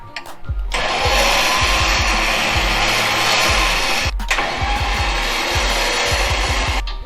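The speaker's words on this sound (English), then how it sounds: "turn the winch on, and make it make noise" An OPENROAD winch motor on an old jeep runs with a loud, steady mechanical whir and a pulsing, rhythmic low hum. It cuts out briefly partway through and then starts running again, with no talking.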